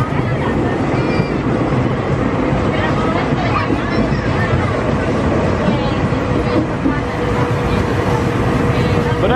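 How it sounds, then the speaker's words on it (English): A theme park train rolling through PortAventura World, a constant loud rumble of wheels and carriages with scattered voices of riders underneath. "the next stop on this train is down in Far West"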